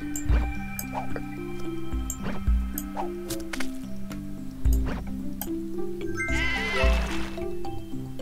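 Sheep bleat in a puzzle video game, several wavering cartoon bleats repeating in rhythm over a steady looping tonal music bed, close and clear.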